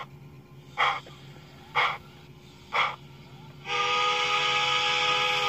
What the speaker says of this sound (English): Blows the whistle twice.